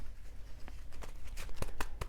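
Tarot cards being shuffled by hand, with a quick series of close crisp riffles and slaps that grow denser and sharper toward the end.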